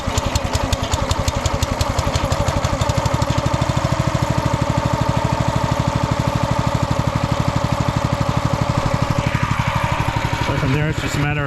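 A RedGum log splitter's small engine, pull-started cold with the choke cracked, runs loud and close at a fast, even chugging idle for about eleven seconds.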